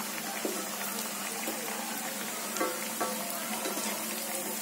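Ragi flour puri sizzling and bubbling in hot frying oil, a steady close crackle with soft pops scattered throughout, no voices present.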